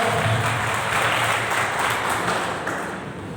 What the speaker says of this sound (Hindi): जोरदार तालियों के साथ इनका स्वागत कीजिए।